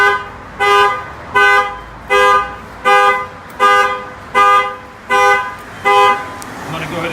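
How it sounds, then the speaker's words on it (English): Factory car alarm on a Ford Fusion sounding off, eight loud, evenly spaced horn blasts close by, each about half a second long, pulsing at a steady rhythm. "Go ahead and shut off the alarm by hitting the unlock button"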